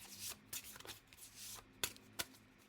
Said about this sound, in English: I hate shuffling, but that's fine.